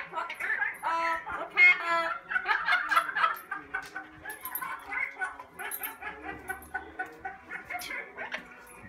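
Bird calls played back from a phone recording, with repeated gobbling, clucking fowl-like calls in bursts throughout, fairly close and loud.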